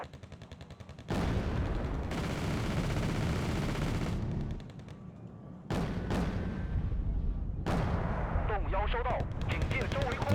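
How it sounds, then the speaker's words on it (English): Su-24 bombing strike in Wargame: Red Dragon lands as a series of heavy, loud explosive blasts with abrupt starts and stops, a short lull in the middle, and a voice talking briefly near the end. "Okay, that bombing strike though."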